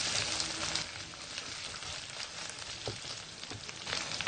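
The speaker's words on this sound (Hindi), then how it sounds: "1 से 2 मिनट शिमला मिर्च को हम भी फ्राई करेंगे।" Capsicum fries with chicken in a pan for a chicken jalfrezi, a soft, fairly quiet sizzle with light crackles and occasional stirring noises throughout, no voices.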